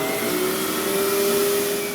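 A laboratory microcentrifuge spins at 10,000 RPM during a soil DNA extraction, producing a loud, steady high whine with a constant tonal hum and broad airy noise, close and unbroken.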